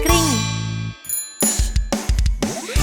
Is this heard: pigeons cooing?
no